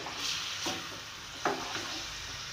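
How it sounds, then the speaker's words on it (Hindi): Sliced green chillies hit hot oil in a chicken karahi, giving a soft, steady sizzle with a few brief stirring scrapes, quiet and close. "अब मैं इसमें ये हरी मिर्ची जो मैंने स्लाइस में काटी थी इन्हें डाल दूँगी।"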